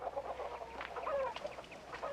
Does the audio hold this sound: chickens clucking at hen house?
yes